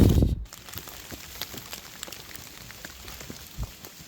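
Heavy rain patters steadily on a mountain hiking trail up Mount Prau, with scattered drop impacts and a brief loud rumble at the start.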